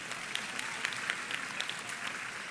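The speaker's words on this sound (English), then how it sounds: "You just a serious round of applause for that." An audience applauds steadily, a soft, even wash of many hands clapping at a fairly low level with no voices over it.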